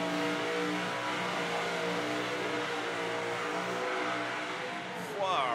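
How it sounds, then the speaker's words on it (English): A supercharged car revs hard at Summernats, a loud, sustained engine drone with steady harmonics for several seconds under the crowd's murmur, ending in a rising whine of revs. "Big, blown, powerful, and hits the pad hard and fast. Big revs."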